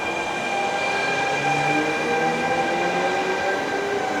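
An Italian train leaves a station on the Florence to Pistoia line with a loud, continuous rumble, high steady wheel and motor whines drifting slowly in pitch, heard close and alone.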